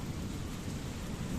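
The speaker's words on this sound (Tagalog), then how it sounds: "Kumukulog siya." Heavy rain hisses steadily while deep thunder rumbles low underneath, a dense, continuous storm sound with no voices.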